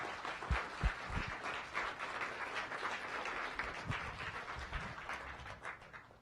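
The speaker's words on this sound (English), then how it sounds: "So let's give Greg one more round of applause." Audience applause for a speaker at a science cafe in a natural sciences museum, a round of clapping from a modest crowd, fairly quiet and distant-sounding, sustained for several seconds with a few sharper claps early on.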